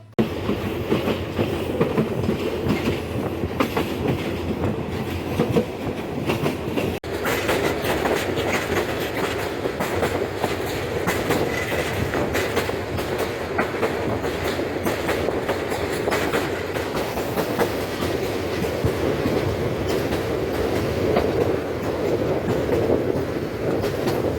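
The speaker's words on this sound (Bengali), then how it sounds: "এই মুহূর্তে দেখতে পাচ্ছেন আরেকটি কন্টেনার যেটি ঢাকা থেকে চট্টগ্রাম অভিমুখী" A container freight train bound from Dhaka to Chittagong rolls past at close range, its wheels keeping up a continuous loud rumble and rhythmic clickety-clack for the whole stretch.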